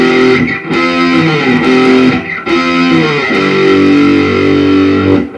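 Loud distorted electric guitar plays a riff, with sustained chords shifting through a short sequence. The crunchy tone is saturated and up close, with no voices over it.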